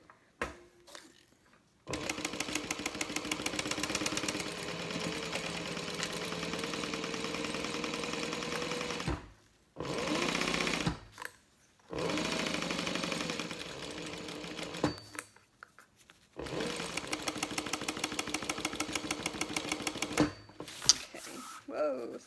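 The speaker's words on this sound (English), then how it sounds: "And then we can finish sewing up our lining and get this bag put together." A sewing machine stitches a bag lining in several long bursts of fast, even whirring and rattling, close by, with short quiet breaks between runs.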